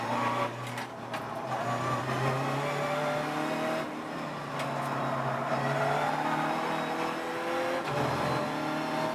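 Audi race cars competing on a circuit, engines droning and shifting pitch as they pass at moderate distance, with rising and falling revs through the stretch.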